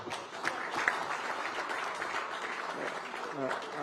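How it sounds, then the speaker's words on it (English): Conference audience at a higher education event claps in a steady, moderately distant wash, with a few sharper individual claps and some speech mixed in. "he deserves more clap"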